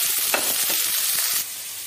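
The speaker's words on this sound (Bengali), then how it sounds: "পেঁয়াজটাকে লাল করে ভেজে নেব" Onions hiss and sizzle steadily in hot mustard oil with dried chillies and black cumin, a loud close frying crackle with brief stirring scrapes, easing slightly toward the end.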